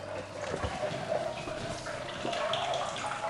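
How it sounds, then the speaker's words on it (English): Running water echoes inside an underground tunnel in a mountain boulder village in Portugal, a faint continuous splashing flow with slight reverberation and occasional small knocks, no voices over it. "I can hear running water."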